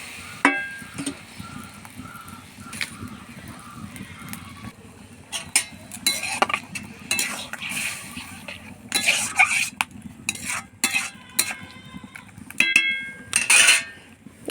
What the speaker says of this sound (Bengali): কড়া গরম হয়ে গেছে, এবার ঢেলে দেবো